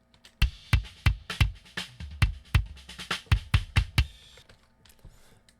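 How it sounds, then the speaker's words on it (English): A close-miked kick drum plays alone, its sharp beater click on each stroke followed by a short low thump. About fourteen hits come in a quick, fairly even rhythm before it trails off quietly. "One of these tracks does sound mostly like the click of my kick drum"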